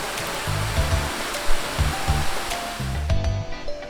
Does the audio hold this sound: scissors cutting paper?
no